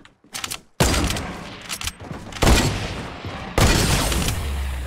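Sniper rifle shots in Fortnite, several sharp, loud cracks with booming tails spaced about a second apart, close and dominant.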